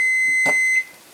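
A kitchen timer set for five minutes goes off in a home kitchen, giving one steady, piercing electronic beep close by that holds for under a second before cutting off to quiet room tone.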